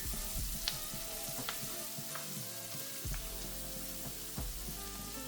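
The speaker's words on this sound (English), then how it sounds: "I'm just gonna let this simmer, and then I shall put my salmon in." Coconut milk curry sauce for salmon simmers in a pan with a soft, steady sizzle, faint bubbling and a few light stirring knocks, quiet and close with no voices.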